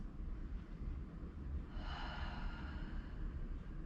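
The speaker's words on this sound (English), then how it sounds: "Continue that Ujjayi breath" Slow, steady Ujjayi yoga breath drawn through a constricted throat during a yoga session for sore legs, a soft airy hiss that swells into a longer, brighter exhale midway, close and quiet over a low background rumble.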